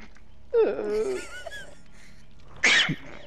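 A short voiced, whimpering sound is followed by a single sharp, close sneeze that breaks off abruptly.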